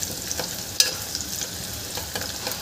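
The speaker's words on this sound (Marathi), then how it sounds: "यामध्ये थोडासा कढीपत्ताही घालून घ्यायचा आहे." Curry leaves frying in a pan for tondli bhat (rice with ivy gourd), a soft, steady sizzle with light stirring clicks and one sharp tap near the start, close and alone without talk.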